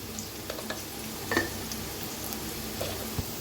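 Onion with turmeric and coriander powder sizzles steadily in a hot pan, a close, continuous frying hiss punctuated by a few soft clinks and stirring scrapes.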